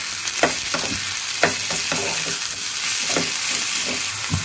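Ingredients for a chutney sizzle and fry in a hot pan, with repeated scraping stirs of a spoon or spatula at an irregular rhythm, close and fairly loud.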